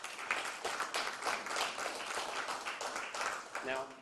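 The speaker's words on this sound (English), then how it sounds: "they deserve a round of applause from all of us" A press conference audience for early childhood education claps in a steady, dense round of applause that holds for several seconds at moderate loudness, with a voice briefly audible near the end.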